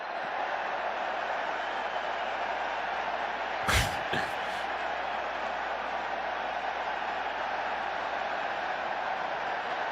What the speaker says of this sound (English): And the roar is for this, the wave.